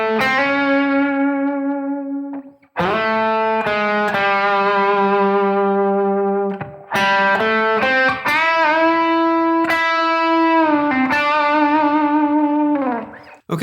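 An electric guitar on the bridge pickup, played through a 1966 Fender Vibrolux amp, plays a slow blues lick of sustained bent and held notes in several phrases separated by short pauses, loud and close with no talking.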